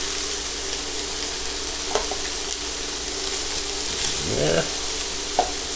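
Shrimp fry in a pan over medium-high heat, giving a steady close sizzle with occasional stirring scrapes and a brief spoken word.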